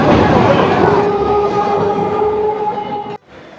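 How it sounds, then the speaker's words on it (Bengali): Local train running on a journey out of Kolkata, a loud steady interior rumble with humming tones throughout, fading abruptly near the end. "সব থেকে সেফ অপশন হলো মাত্র 15 টাকায় এই ট্রেন জার্নি।"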